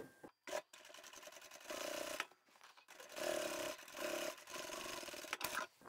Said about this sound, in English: I'm just going to sew up the edge of the pocket just to secure it to the fabric.